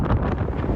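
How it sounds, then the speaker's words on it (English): Strong wind near Hoover Dam buffets the microphone with a loud, continuous low rumble, heard briefly and without voices. "It's really windy too."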